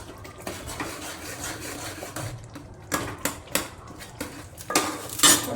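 Two Maggi cubes are broken up in a pot of jollof rice, giving clustered scraping and clinking knocks of a spoon against the pot, louder toward the end.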